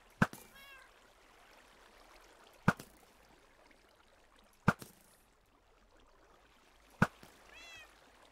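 Cats meow in the Minecraft video game. A few short meows are heard between four sharp, evenly spaced clicks over a quiet background.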